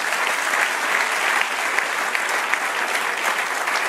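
A congregation at a church sermon gives a loud, dense round of applause to the Lord, an even, continuous wash of many clapping hands lasting a few seconds.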